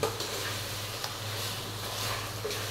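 Rice is stirred in a pot, giving a soft continuous hiss with a low hum and faint scraping, quiet and close without voices.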